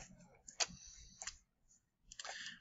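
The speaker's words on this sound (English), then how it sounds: "you're going to go ahead and click the button" A computer mouse gives sharp, light clicks on an on-screen button, a few separate taps spaced apart with short quiet gaps between them, heard close and faint.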